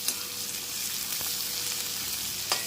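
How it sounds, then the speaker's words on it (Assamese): Onions sizzle in hot mustard oil in a kadai with whole cumin, a steady close frying hiss broken by a couple of faint clicks, with no talking. "এতিয়া মই পিঁয়াজখিনি দি দিছোঁ"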